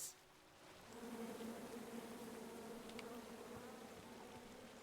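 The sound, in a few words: bees buzzing in video game King's Quest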